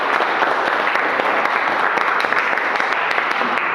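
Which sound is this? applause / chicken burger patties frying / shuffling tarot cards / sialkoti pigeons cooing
applause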